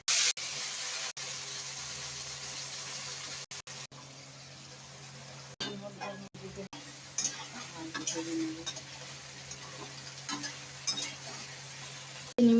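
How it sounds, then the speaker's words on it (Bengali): Salt and chilli hit hot oil for a tempering, giving intermittent sizzling and stirring noises with scrapes and a few sharp clicks, quiet gaps in between and louder bursts toward the end. "এখানে তেল গরম হয়ে গেছে। তেলের মধ্যে নুন ফেলে দিলাম, লঙ্কা ফেলে দিলাম,"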